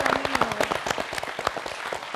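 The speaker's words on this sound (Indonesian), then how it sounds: "Kita beri tepuk tangan" Applause from a studio audience on an Indonesian TVRI quiz show, a dense patter of many hands clapping at moderate loudness, with a brief tonal voice near the start.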